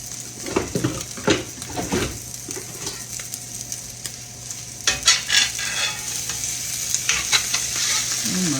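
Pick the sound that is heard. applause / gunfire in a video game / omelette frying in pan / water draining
omelette frying in pan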